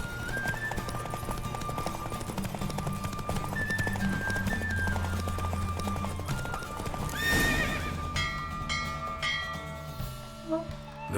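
A horse in The Witcher 3 gallops with rapid, steady hoofbeats over game music and bells, then lets out a loud, close neigh near the end.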